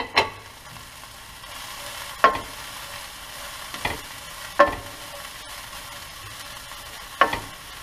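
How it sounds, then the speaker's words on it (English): Carrots and cabbage frying in a pan for pancit, a steady soft sizzle broken by several sharp scraping stirs at irregular intervals, close and moderately quiet. "So I'm going to throw in the carrots and the cabbage"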